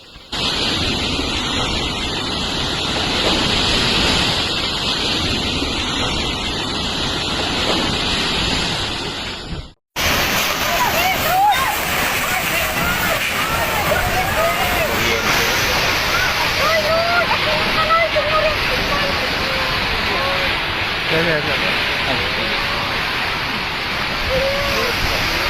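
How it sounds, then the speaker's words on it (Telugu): Powerful Super Typhoon Pepito winds of around 200 km/h strike the Philippine coast, a loud, unbroken roaring rush with a brief cut before the gusts resume just as fiercely. "తుఫాను తీరాన్ని తాకినప్పుడు వీస్తున్న బలమైన గాలులు ఇవి."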